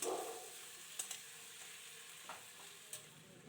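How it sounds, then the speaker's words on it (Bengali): A paste of garlic and ginger is stirred into mutton frying in a pan for Bengali-style mutton kosha, giving a quiet, even sizzle with a few soft scraping stirs. "এটা আমি এবার ভাজা মাংসের সঙ্গে"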